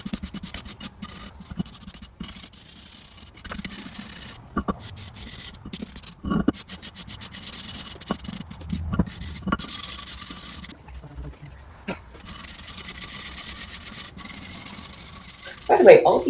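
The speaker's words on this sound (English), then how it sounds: "More soothing scrubbing." Bricks in a greenhouse floor get scrubbed by hand, a soft rasping rub that repeats in uneven strokes, close and moderately quiet, with a brief louder scrape near the end.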